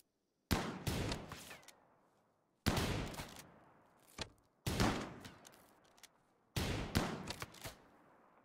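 Gunfire in the video game RimWorld comes as four loud bursts of rapid shots, each a cluster of sharp cracks with a fading tail, separated by short pauses.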